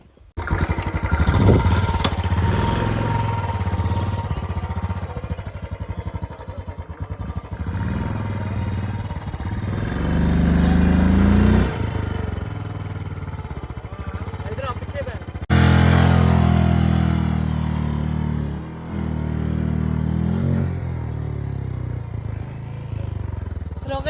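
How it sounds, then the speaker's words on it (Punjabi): A boat's engine, stuck in mud, runs steadily at a loud level throughout, its low throbbing drone surging and dipping, while several people shout and talk over it. "ਇੰਜਨ ਅੜ ਗਿਆ"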